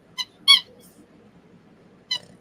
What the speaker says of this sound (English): She likes this little squeaky.